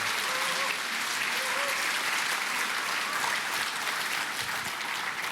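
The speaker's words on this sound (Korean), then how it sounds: "우리 목사님 큰 박수로 환영하겠습니다" A gathering of church elders at a national retreat gives a pastor a big welcoming round of applause, a dense, sustained clapping that stays steady throughout, with faint voices briefly audible early on.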